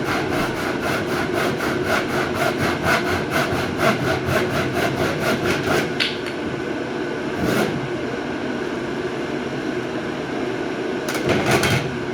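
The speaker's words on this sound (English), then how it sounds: "I've just got my hand saw. So I'm going to finish this off." A hand saw cuts a notch in the wooden frame of a 23 ft Spira Winchester boat, with rapid rhythmic rasping strokes close by, a pause, a single stroke, then a final short burst of strokes.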